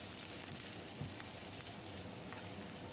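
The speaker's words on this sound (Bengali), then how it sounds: "সেই কুচনো পেঁয়াজটা দিয়ে একটু নেড়ে চেড়ে ভেজেই" Finely chopped onion fries in a pan for soybean curry, giving a steady, faint sizzle with a few soft stirring scrapes.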